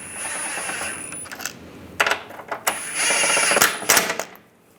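Engine mount bolts on a 1998–2010 Volkswagen Beetle are snugged up with a ratchet. Close, sharp metallic clicks and rattles come in uneven bursts, with a high whine in the background.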